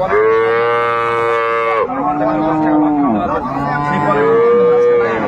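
Dairy cows moo at a livestock market in Dinajpur, three long loud bellows in a row, each one sliding down in pitch, close by and with no other voices over them.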